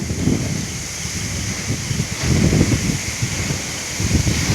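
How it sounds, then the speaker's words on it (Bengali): Strong gusty wind roars and buffets in waves, rustling through foliage, loud and close with no voices. "ঝড় হাওয়া হচ্ছে, দেখো ঝড়ে কত মিটার হাওয়া হচ্ছে।"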